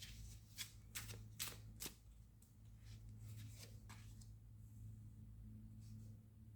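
Tarot cards being shuffled at close range, a run of crisp riffling bursts followed by softer sliding and tapping of the deck over a low steady background hum, with no talking.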